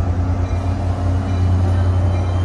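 An NJ Transit train with an F40 diesel locomotive idles at Summit station in New Jersey during the evening rush. A loud, steady low rumble and engine drone continue throughout, with no talking.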